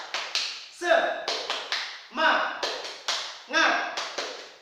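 A classroom group performs a rhythmic spirit clap, sharp claps in repeating quick bursts of about four to five beats separated by short pauses, with chanted voices joining on the accented beats at close range.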